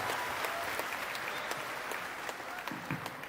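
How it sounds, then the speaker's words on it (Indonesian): An audience at an education forum gives sustained applause, a dense, even patter of many hands clapping at moderate level. "Tepuk tangan buat Nahida."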